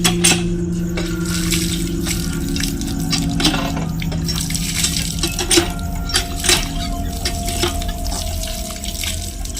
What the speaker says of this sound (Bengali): যাই হাত পাটা ধুয়ে আসি